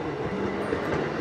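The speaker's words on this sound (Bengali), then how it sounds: "এই মুহূর্তে শান্তিপুর লোকাল ঢুকছে" Shantipur local commuter train rolling into a station, a loud, close, continuous rumble with rhythmic wheel clatter on the rails and no voices.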